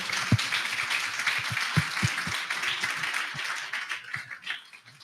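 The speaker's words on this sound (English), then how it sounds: "I would like to have everybody give a big round of applause to Mark and Aaron." An audience at an investment crowdfunding summit applauds the speakers, producing a steady wash of clapping from a room full of people that fades toward the end.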